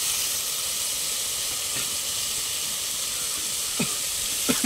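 Curry leaves, coriander and ground cinnamon and cloves sizzle in hot oil in a pan for mutton paya, giving a constant bright hiss. A few soft scrapes of stirring sound near the end.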